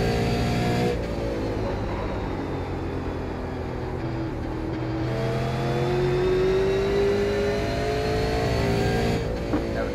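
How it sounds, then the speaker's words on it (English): A Super Late Model race car in the iRacing sim at Myrtle Beach drones steadily at speed, its engine note rising and falling through the corners with faint scraping as it bottoms out, continuous and fairly close. "you can hear us bottoming out, especially in 3 and 4"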